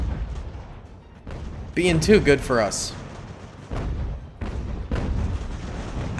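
Cannon artillery fire in the strategy game Ultimate General: American Revolution, a burst of booming shots over continuous battle noise, with someone talking throughout.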